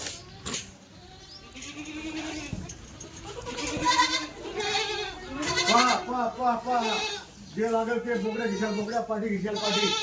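Hungry young Kathiawadi goat kids bleat again and again in a morning pen, their overlapping cries rising and falling close by, with voices talking among them.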